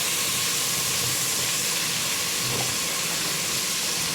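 Garlic and onion sautéing in oil as the base of a fish sauce, a constant hissing sizzle, close and even, with no speech over it.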